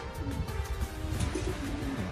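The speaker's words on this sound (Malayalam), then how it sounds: "ഇത് ഫുള്ള് പ്രാവ്" Pigeons coo softly in a short, low, rolling call at a farm with netting in a desert area, faint and fairly close, with little else around.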